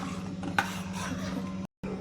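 Warm mango kulfi mixture made with Hapus mangoes being stirred in a pot, a steady scraping swirl with a brief clink, close and continuous, with a short silent gap near the end.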